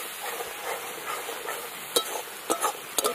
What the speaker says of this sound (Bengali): মশলাটাকে হালকা একটু নেড়ে নেবো।